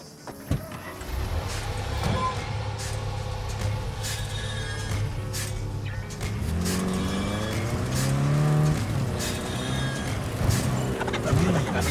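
Car driving in Cyberpunk 2077, a steady engine drone with rising revs and shifting pitch, continuous and fairly close throughout, with brief game sounds layered over it.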